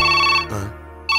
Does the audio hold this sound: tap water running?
no